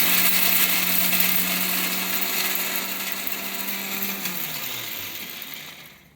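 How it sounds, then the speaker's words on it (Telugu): A mixer grinder grinding lentils whirs loudly and steadily, its motor pitch dropping as it winds down and stops near the end. "ఇప్పుడు పప్పులు ఆడించుకుందాం మిక్సీలో ఆడిచేద్దాము"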